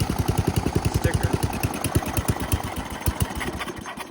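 Riding lawn mower engine idling low, a close, loud, rapid chugging pulse with a steady knocking rhythm throughout, no talking.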